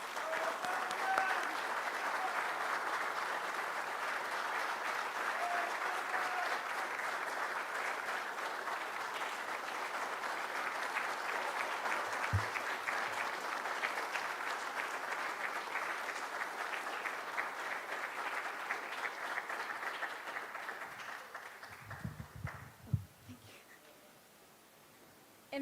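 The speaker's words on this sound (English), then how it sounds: "a warm round of applause" Warm applause for Sister Kiema Amira Muhammad at an Albinism Awareness Day gathering, a large crowd clapping in a steady, full roar for over twenty seconds before it thins out and dies away to near quiet.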